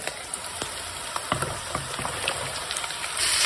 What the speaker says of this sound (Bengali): আমি এখন এইভাবেই একটু হাই হিটে সবজিটাকে ভেজে নেব